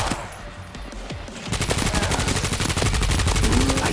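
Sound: gunfire at a zombie in the video game World War Z

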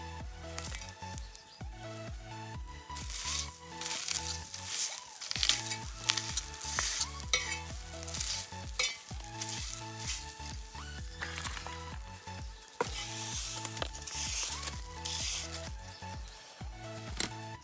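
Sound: roasted onions sautéing on a griddle

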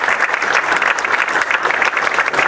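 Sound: audience applause

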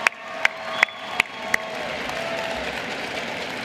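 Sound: audience applause for a band

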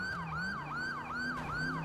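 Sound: police backup sirens in GTA V LSPDFR video game

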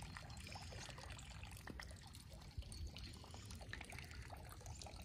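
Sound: water flowing from a village fountain

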